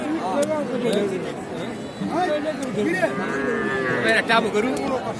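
Several young bulls and calves moo close by at the Mataji cattle market in Naogaon, long low bellows overlapping amid the murmur and chatter of a busy crowd.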